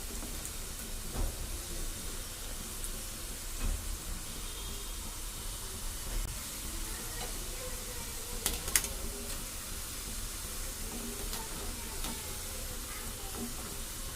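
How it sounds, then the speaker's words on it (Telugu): Mysore bondas deep-frying in hot oil in a home kitchen, a steady soft sizzle and hiss lasting throughout, with a few brief clinks and stirring taps. "ఇప్పుడు బ్రౌన్ కలర్ వచ్చే వరకు వీటిని ఫ్రై చేసుకుందాం చూడండి"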